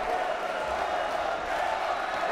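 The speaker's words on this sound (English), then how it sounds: "Crowd really getting into it now." Crowd cheering through the arena during the bronze-medal 125 kg freestyle wrestling bout, a steady, moderately distant roar that stays constant without breaks.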